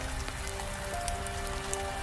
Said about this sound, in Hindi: ठंडी बारिश और तेज हवाओं के बीच